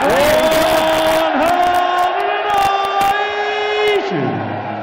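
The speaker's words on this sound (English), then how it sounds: "Well, a hint of the crowd are in the mood for this one." Darts crowd at the 2018 Austrian Darts Open roaring and cheering in a packed arena, a loud sustained sung chant with steady pitch that drops lower near the end.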